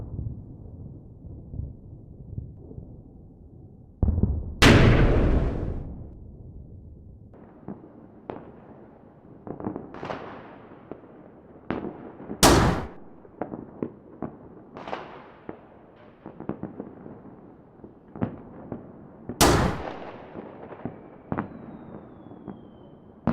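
Indirect artillery and mortar fire in the Combat Mission video game: a series of sharp, loud explosions and impacts at irregular intervals, some near and booming, others fainter, with no talk.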